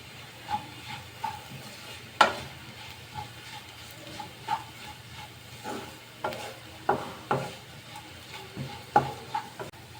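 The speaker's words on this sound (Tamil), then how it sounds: "இப்போ பூண்டு சேர்த்து லோ ஃப்ளேமில் 2 நிமிஷம் ஆகுது. மிளகாய் தூள் சேர்க்குறேன்." Garlic and chili powder frying on a low flame for a garlic curd curry: a faint steady sizzle with soft, recurring stirring taps and scrapes of a spoon against the pan.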